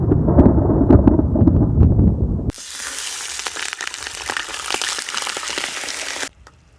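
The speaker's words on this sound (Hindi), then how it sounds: "बादल गरज रहे हैं भाई" Loud rolling thunder during a heavy rainstorm at a solo camp, a deep rumble giving way to a steady roar of rain and wind that cuts off near the end.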